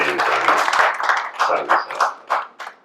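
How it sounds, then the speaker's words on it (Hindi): Audience clapping at a mushaira in Andheri, Mumbai, welcoming a poet: scattered, moderately loud claps mixed with a voice and crowd murmur, rising and falling in uneven waves. "जोरदार तालियों से इस्तक़बाल करें जनाब"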